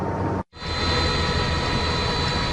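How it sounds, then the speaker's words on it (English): Military helicopters pass low over a southeast Houston neighborhood, a loud, dense roar of rotor and engine noise that cuts out for a split second, then resumes steadily. "With military helicopters flying above her southeast Houston neighborhood, Frances Geralds didn't know what to think."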